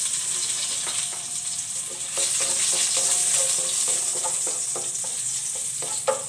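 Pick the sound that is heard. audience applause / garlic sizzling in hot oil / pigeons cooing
garlic sizzling in hot oil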